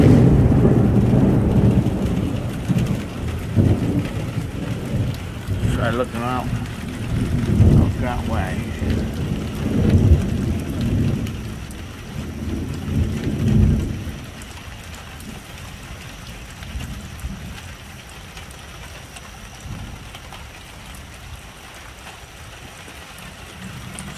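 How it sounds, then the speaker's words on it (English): Thunder rumbles with heavy rain during a nighttime thunderstorm, a strong roaring wash of rain with low rolling booms over the first fourteen seconds, then steadier, quieter rainfall; a person speaks briefly over the storm. "Sometimes there's thunder and sometimes there isn't."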